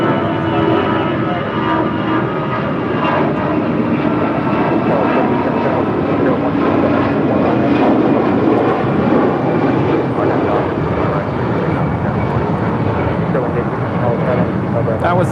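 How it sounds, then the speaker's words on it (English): American Airlines Airbus A319 departing toward Phoenix, a loud sustained engine roar swelling and lingering for many seconds, with people talking over it. "That was American 65 departing to Phoenix on an A319"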